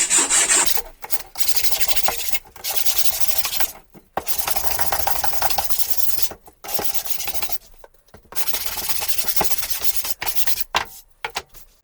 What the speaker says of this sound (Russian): Края быстренько зачистим.